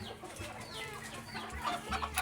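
Chickens, some perched on a roof, cluck softly at a distance, a few short calls rising near the end over quiet outdoor background.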